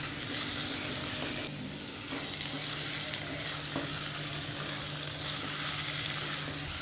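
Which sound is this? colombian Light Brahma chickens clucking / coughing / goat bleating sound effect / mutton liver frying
mutton liver frying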